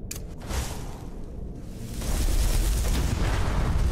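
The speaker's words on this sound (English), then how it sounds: "That was a bit too much of an explosion, but whatever, it works." A fireball spell bursts in Skyrim, a broad roaring explosion that swells and sustains as a heavy rumbling wash, loud and close without any talking.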